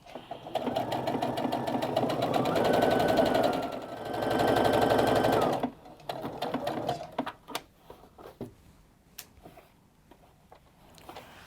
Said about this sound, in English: I like to sew a little forward and a little back.